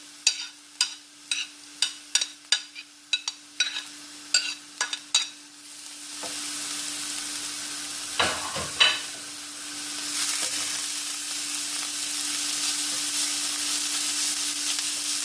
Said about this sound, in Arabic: من بعد ما تشحرت ليا البصيله ديالي غادي نزيد عليها خيزر محطوط